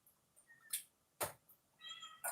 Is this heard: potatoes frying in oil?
no